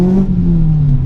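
A Ford Fiesta MK6 ST hot hatch engine hums loudly and steadily at close range as the revs ease down on a downshift, with no one talking.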